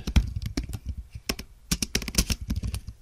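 Fingers tap out text on a computer keyboard in a quick, irregular run of light clicks and clacks, close and fairly quiet, with no other sound around them.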